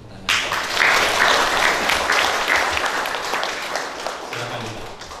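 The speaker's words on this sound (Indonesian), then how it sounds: "Mari kita berikan tepuk tangan." Wedding guests in a church burst into applause for the newly married couple, the clapping starting abruptly, staying dense and loud, then gradually thinning toward the end.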